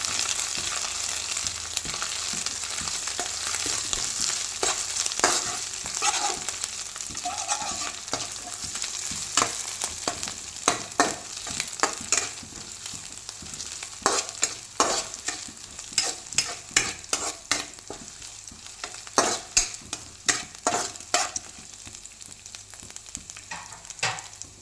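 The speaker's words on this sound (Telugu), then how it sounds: "అది కూడా వేసి పచ్చివాసన పోయేంత వరకు ఈ నూనెలో ఫ్రై చేసుకోవాలి" Ginger garlic paste frying in hot oil with onion and green chilli, a steady close sizzle under repeated scraping stirs of a spoon against the pan, with no voices.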